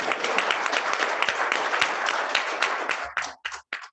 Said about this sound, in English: You can give him some applause.